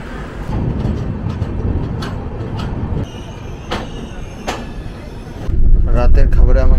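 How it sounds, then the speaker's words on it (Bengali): The Rajdhani Express (20506) pulls out of Rangapara North station with a steady rolling rumble, sharp intermittent clanks and squeals, swelling louder and heavier toward the end. "রাঙাপাড়া নর্থ থেকে ট্রেন জাস্ট এখনই ছাড়বে।"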